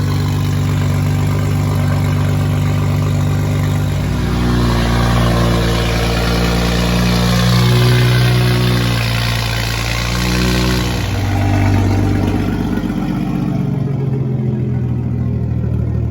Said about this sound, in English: now we set her down to idle. Idle's so much louder